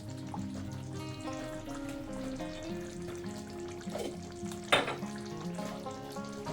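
Pabda fish sizzles in mustard oil in a pan for a Bengali shorshe jhal, a quiet continuous crackling fry with a brief sharper splutter near the end and no talking.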